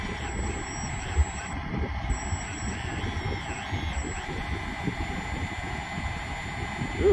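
The sound kit on a 1/16 ERTL Case 688 RC excavator conversion gives a steady diesel-like engine rumble with faint high reversing beeps running through it, close and continuous, with no talk.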